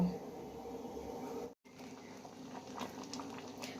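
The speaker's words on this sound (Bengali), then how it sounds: "ফুটে গেছে, নামিয়ে নেব।" Dal bubbling in a pot on the stove makes a steady soft patter and hiss of boiling, close and continuous, briefly cut off for a moment midway before the simmering resumes.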